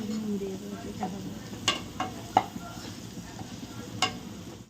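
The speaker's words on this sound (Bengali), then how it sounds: "চিংড়ি মাছটা হালকা করে লাল করে নিয়েছে, এবার হলুদ দিয়ে দিচ্ছি।" Prawns fry in a pan as turmeric goes in, a low steady sizzle close by with several crisp utensil taps and scrapes scattered throughout.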